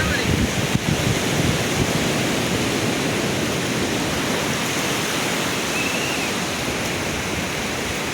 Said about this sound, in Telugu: ఇదే నా వెనక కనిపిస్తున్నదే సూర్యలంక బీచ్.